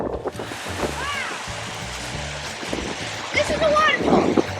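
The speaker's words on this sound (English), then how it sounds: "This is a waterfall! Got two streams." A waterfall with two streams on a southern Minnesota trail gives a steady, broad rush of falling water close by, with people talking over it throughout.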